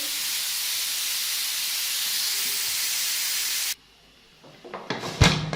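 Steam hisses loudly and steadily from a pressure cooker of minced meat as its weight is removed, then cuts off abruptly, followed by a few clanks and handling noises.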